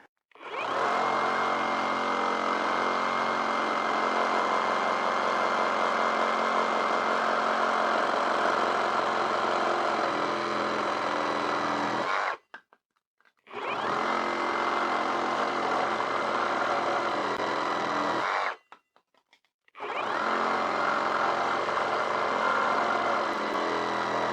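A reciprocating saw with a Milwaukee blade cuts through wood with embedded nails in three loud, continuous buzzing bursts, the first about twelve seconds long, separated by short silences.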